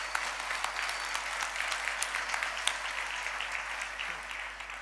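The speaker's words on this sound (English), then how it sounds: "let's give a round of applause, a warm one" Steady, warm applause rises from the audience at a university autumn graduation ceremony for the Faculty of Health Sciences and Faculty of Law graduates, heard at a moderate distance with a low hum beneath it.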